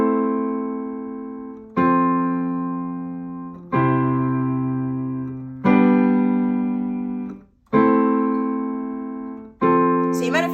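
A common pop song chord progression rings out on a clean, sustained instrument, six chords struck about every two seconds, each decaying before the next, steady and close with no talking.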